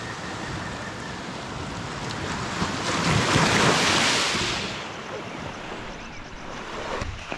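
Ocean surf rolls onto the shore beside a seaside campsite in the wild during a storm. It is a continuous broadband roar that swells to a louder peak midway, with wind rushing over the microphone.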